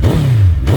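A 2008 Suzuki GSX-1300R Hayabusa, a second-generation sport bike, revs its engine in a short, loud, close burst of deep mechanical drone.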